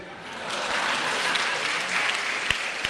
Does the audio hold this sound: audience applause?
yes